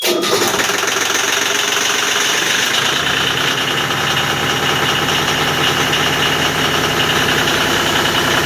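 A 1990 Pacific SeaCraft boat engine idles steadily while warming up, a loud, continuous, close rumble with a rough mechanical chatter that holds unchanged throughout, no voices.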